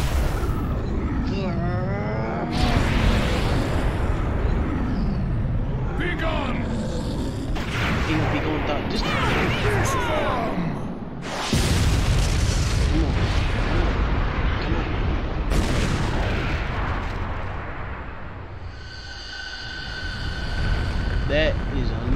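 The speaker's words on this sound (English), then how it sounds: "That is a nuclear explosion." A huge nuclear explosion in the fighting game Naruto Ultimate Ninja Storm 3 rumbles loudly and continuously, with booming blasts and a roaring low tail beneath excited voices talking over the action.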